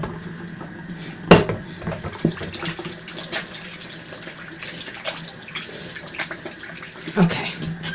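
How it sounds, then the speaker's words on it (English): Hands washed under a running tap in a home kitchen while cooking mostaccioli, a steady broadband water rush with a couple of sharp clunks and splashes near the start and end, heard close. "let me wash my hands again."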